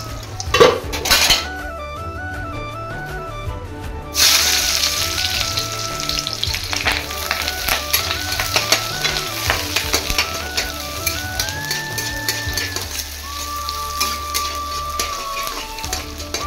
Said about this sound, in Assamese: এতিয়া গেছ জ্বলাই লৈছোঁ এয়া মোৰ তেল পকিলে শুকান জলকীয়া 3টা দি দিছোঁ